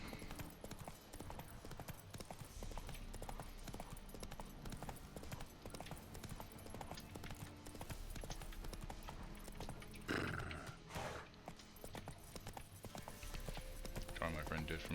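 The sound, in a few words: horse Roach galloping in a video game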